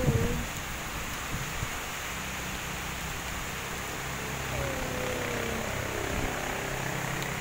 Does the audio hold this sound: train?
no